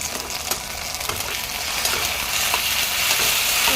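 Ginger garlic paste frying in hot oil for chilli paneer, a dense loud crackling sizzle that swells and steadies, with a few faint utensil taps underneath and no talking.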